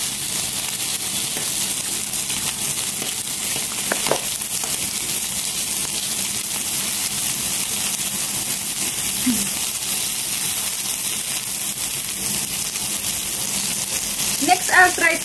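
Barbecued pork sizzles on a grill with a constant, even hiss, with faint clinks partway through and a voice briefly at the end.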